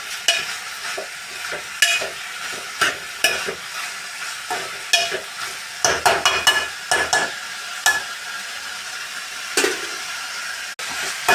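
Potatoes and broad beans sizzle in a hot pan while a spoon stirs them, with repeated scraping strokes at an uneven rhythm over a steady frying hiss, close and fairly loud.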